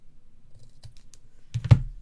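Scissors snip through ribbon ends curled together, giving a couple of short, close crisp cuts near the end after quiet handling noise.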